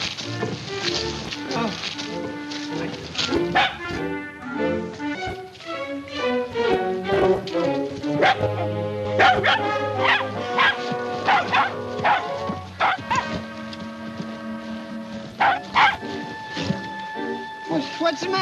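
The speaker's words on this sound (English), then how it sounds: "nice little doggy" A small dog barks, yips and whimpers in a 1943 comedy film scene, with several sharp bursts against a musical score and voices talking over it.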